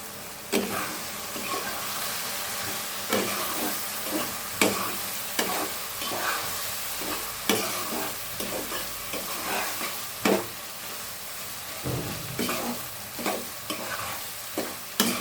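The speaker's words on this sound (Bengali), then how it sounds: "এই পর্যায়ে তো একটু নেড়ে দেখতেই হয় কি অবস্থায় আছে।" Dried loitta fish fries in a pan as a spatula stirs it, with repeated sharp scrapes and clacks over a continuous loud sizzle.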